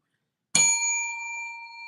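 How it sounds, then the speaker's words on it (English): A hand bell rung once during a sixth-anniversary mega sale: a single bright, ringing ding that starts sharply and fades slowly, heard alone and close. "Every time you guys hear that ding, that's a purchase."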